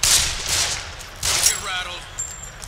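Rapid gunfire from a sniper zombie in The Evil Within horror game, a burst of sharp shots with ricochet-like whines, loud and close, under faint game ambience.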